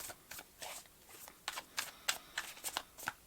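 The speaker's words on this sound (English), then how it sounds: "We can shuffle the tarot cards." Tarot cards are shuffled in quick, crisp riffling bursts, close and fairly quiet, with a few short pauses between flurries.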